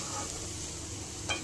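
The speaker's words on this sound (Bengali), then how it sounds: "দেখছেন নারকেলটা ভালোভাবে মিশিয়ে নিচ্ছি" Grated coconut is stirred into ghee with frying vermicelli, a constant soft sizzle and scraping close by, with one brief louder clink of the utensil near the end; no speech.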